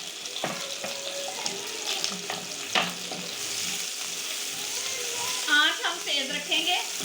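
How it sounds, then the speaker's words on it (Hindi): Onion frying in a pan for chow mein, a steady sizzle with sharp stirring knocks and scrapes, growing busier and louder toward the end. "अब मैं डालूंगी प्याज।"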